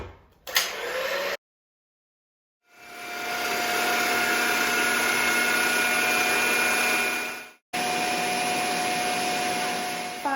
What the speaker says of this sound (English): I'm going to beat the eggs, as the recipe says, until they're fluffy